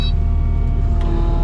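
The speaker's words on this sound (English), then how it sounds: "And I'll spin the skid steer around here." Steady, loud diesel rumble of a skid steer turning in place while clearing alder brush, a continuous close engine drone with no breaks.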